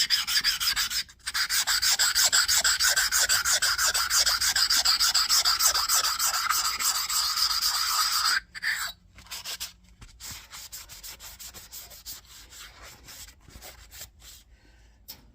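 A steady, continuous scraping rub of a soft black stone against a metal box parallel, strokes blending into a dense rasp, then stopping abruptly with a few softer scrapes afterward.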